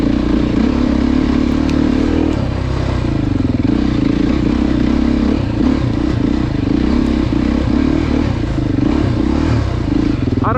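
A Beta dirt bike engine runs at full power with a loud, close, steady buzzing drone and a faint clatter, holding the same pitch throughout with no talk over it.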